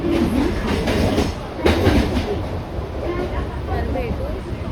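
A crowded passenger train running, with a continuous low rumble and clickety-clack of wheels on rails heard from inside, a louder rattling burst partway through and faint chatter in the background.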